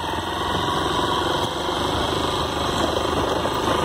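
A Honda Bros 160 motorcycle engine idles steadily on a farm with a constant, close, buzzing drone and no voices.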